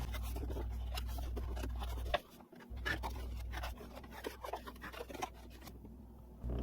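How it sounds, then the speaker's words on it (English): Paper envelope folded and burnished along score lines, producing soft scraping and rubbing strokes, close and quiet over a low steady hum. "We're going to fold and burnish along the score lines."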